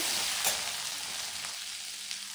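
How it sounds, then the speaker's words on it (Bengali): Spices with red chili powder being stirred in a hot pan for a Bengali lau dal: a steady, close sizzle of frying, with a few soft scrapes from the stirring. "মশলাটাকে একটু নাড়াচাড়া করে মিশিয়ে নিয়ে"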